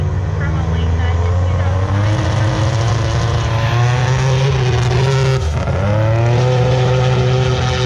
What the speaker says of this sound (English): racing in his 1987 Buick Grand National against Jose in the spectator lane